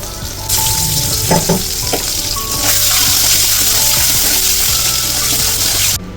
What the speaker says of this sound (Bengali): আলুগুলো হালকা একটু ভেজে নিয়ে তুলে নেবো।